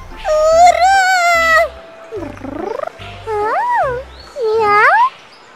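A kitten meows in a series of five or six loud, close, drawn-out cries, some rising and falling in pitch, with short pauses between them.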